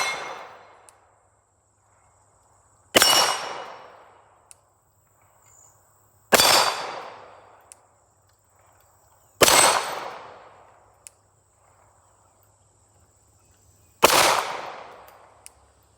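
Sharp, loud pistol shots from a custom-built Glock 40 in 10mm ring out one at a time, spaced a few seconds apart, each leaving a short decaying echo between shots.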